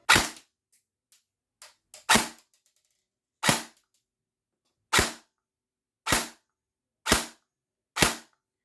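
Sharp single shots from an airsoft M4 electric gun ring out alone, spaced about a second apart, crisp and close with quick decay.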